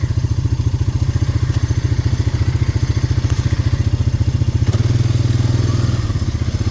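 An old Honda four-wheeler ATV engine running rough, with a loud, close, steady chugging pulse that stumbles unevenly and briefly rises near the end, with no voices over it.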